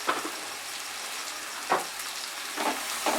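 Spice paste for a Bengali prawn dopiaza fries over medium heat, a steady close sizzle broken by several sharp scraping stir strokes, no voices.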